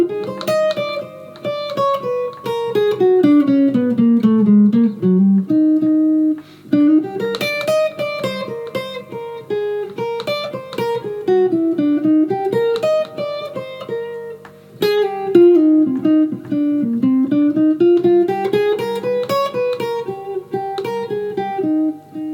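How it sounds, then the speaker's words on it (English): Jazz guitar solo over a chord progression, running fluid single-note lines through altered, whole tone and diminished scales in three continuous passes with brief pauses between phrases, played alone and up close. "So here I play the altered scale first time, the whole tone scale second time, and the diminished scale the third time."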